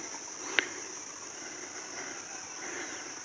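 Insects chirp in a forest conservation area near a hilltop pagoda in Khun Yuam, Mae Hong Son, as a faint, steady high-pitched drone, broken once by a sharp click near the start.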